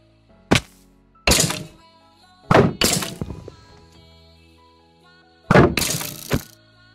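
A Minecraft shot missing its target, heard as a few abrupt game impact thunks and cracking breaks, some sounding glassy, separated by short silences.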